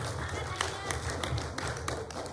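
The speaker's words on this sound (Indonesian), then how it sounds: "Tepuk tangan yang meriah buat Bapak Ibu sekalian." Faint applause from a seminar audience at an Indonesian business event: scattered, quiet hand claps patter against a low room hum.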